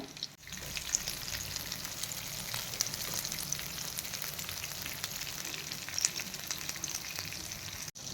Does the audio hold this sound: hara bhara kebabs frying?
yes